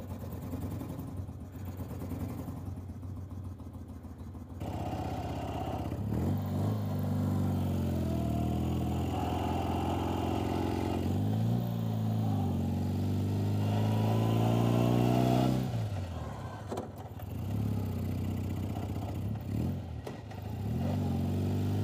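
Dnepr MT16 sidecar motorcycle fitted with a BMW R60 boxer engine idles roughly, then revs up and settles several times, loud and close throughout with no talking.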